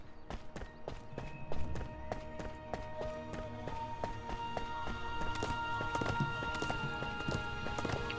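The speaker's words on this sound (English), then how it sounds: "I hear a horse" In the video game Rangers of Oblivion, horse hooves clip-clop in a steady, fairly quick rhythm with a whinny mixed in, joined by game music, all at a fairly low level.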